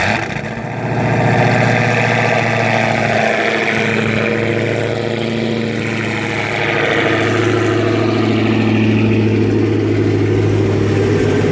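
A 2016 Dodge Challenger Hellcat V8 fires up on a dyno with a cooling fan running, then settles into a loud, steady, rumbling idle that holds for about ten seconds.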